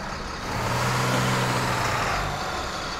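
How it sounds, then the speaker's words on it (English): A Ford F350 pickup engine in the SpinTires off-road game starts up and settles into a steady low idle rumble, loud and close, with no talking. "so that sounds like an F350 to me"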